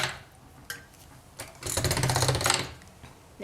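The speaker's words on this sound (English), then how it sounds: "I'm just going to roll it through a pasta machine quickly." Black Primo polymer clay fed through a hand-cranked pasta machine, a ratcheting mechanical clatter that starts with a few clicks and swells into a steady louder rolling grind before easing off.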